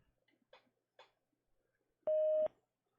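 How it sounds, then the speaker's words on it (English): A single steady voicemail beep tone, clean and loud, holds for about half a second after a short stretch of faint background noise. "Please leave a detailed message after the tone."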